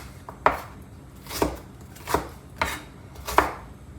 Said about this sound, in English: We're going to chop up this onion and the green pepper